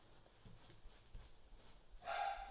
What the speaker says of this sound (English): Oops, there's my puppy.